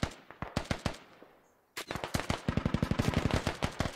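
DShK heavy machine gun in the video game Squad firing loud, close bursts of rapid single shots, a pause of near silence, then a long sustained stream of rounds at a steady rhythm.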